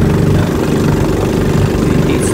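Small boat engines roar at close range, a 20 hp high-speed Proquip and an 18 hp low-speed Yamaha, in a loud, steady mechanical drone with a low throbbing rumble and no pause.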